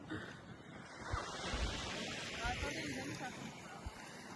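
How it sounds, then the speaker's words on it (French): Steady wind buffeting across the whole stretch at an airport, a broad roaring rush with gusty swells and low rumbles, like outdoor wind hitting a microphone. "Je sais pas à quel point on t'entend avec le vent."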